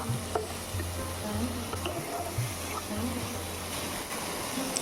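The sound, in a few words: tomato being sautéed with salt in pan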